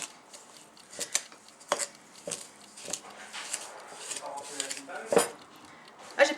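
A small wooden spoon scrapes and clinks around a bowl of sugar while making gluten-free cookies, giving irregular soft knocks and taps at close range, quiet overall, with bits of voice in between.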